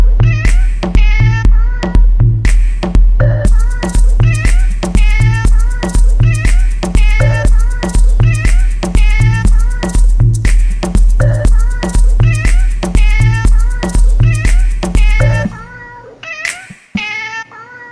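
A cat meows over and over in a quick, regular series of loud, close, strongly voiced calls for about fifteen seconds, then the sound trails off into scattered fainter noises.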